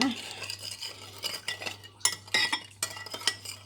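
A spoon stirs spicy fiddler crab and mango salad dressing in a bowl, making close clinking and scraping strokes in uneven bursts over a low steady hum, with no speech.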